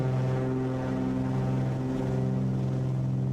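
Twin engines of a Cessna 414 in Microsoft Flight Simulator 2020 run at full throttle during the takeoff roll, making a loud, steady propeller drone with strong harmonic tones and no talking.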